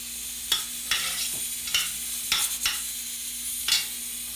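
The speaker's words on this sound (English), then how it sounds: "we're going to continue sauteing that for a little bit" Spinach sautés in a pan, a steady sizzle broken by several sharp scraping stirs of a utensil at irregular intervals, close and without voices.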